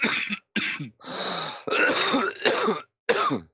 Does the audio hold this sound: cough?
yes